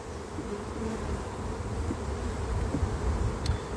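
Honeybees buzz around a hive cluster, a dense, continuous droning hum close by, steady and unbroken throughout.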